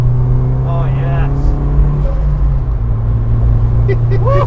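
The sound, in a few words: Renault Kangoo turbo van engine accelerating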